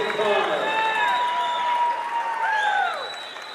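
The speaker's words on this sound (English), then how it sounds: "the crowd gives them a standing ovation as the starters come off the floor" Crowd at a boys high school basketball game giving a standing ovation, applause and cheering from the stands carrying under a commentator's steady voice, fading a little at the end.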